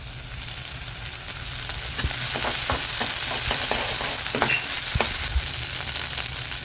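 Ginger garlic paste frying in a pan gives a dense, close sizzle that swells slightly, with a few light stirring taps and clicks and no voices.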